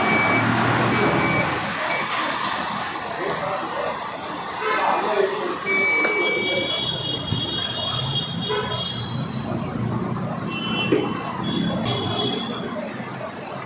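A TVS iQube electric scooter in reverse mode gives off a repeated electronic beeping under busy street noise, while people talk nearby throughout.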